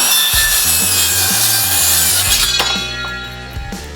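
WORX 20V Max lithium circular saw making a 45-degree bevel cut through wood molding, a loud, steady whining cut that lasts nearly the whole clip, with no one speaking.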